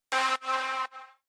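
A bright, buzzy synth lead plays three sustained notes, the last one quieter and shorter, with no other sounds behind it.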